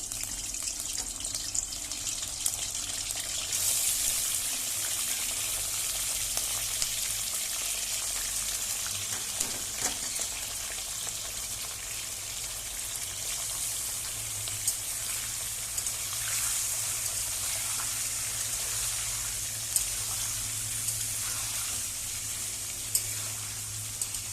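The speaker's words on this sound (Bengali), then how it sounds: "এবার আমি মাংসটা একটু ভেজে নেব, ফ্রাই করে নেব" Chicken meat frying in hot oil for chilli chicken makes a steady, dense sizzle that holds for the whole stretch, with occasional faint crackles and a low hum underneath; no one talks.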